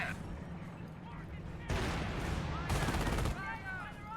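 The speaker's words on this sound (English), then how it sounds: "More of those PG grenades." Grenade blasts and gunfire in a Company of Heroes 1 match between US forces and Panzer Elite tank destroyers, with two loud bursts of explosive noise standing out over a steady battle din of shots and rumble.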